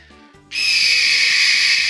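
A hawk creature's call in a video game, a loud sustained high whistling screech that bursts in halfway through and holds steady over soft game music.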